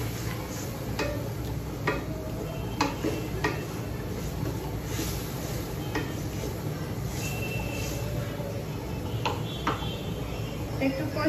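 Ground cumin, homemade garam masala and salt stirred and frying in a pan: a steady sizzling hiss broken by scattered metallic spatula clinks and taps.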